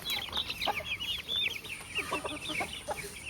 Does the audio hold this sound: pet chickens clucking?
yes